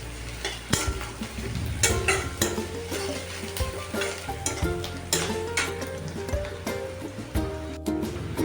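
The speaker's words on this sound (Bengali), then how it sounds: "পেঁয়াজটাকে একটু নাড়াচাড়া করে নিচ্ছি।" Onion and whole white cumin seeds are stirred in hot frying oil, with a continuous sizzle broken by repeated scraping strokes of the spoon against the pan, and no voices.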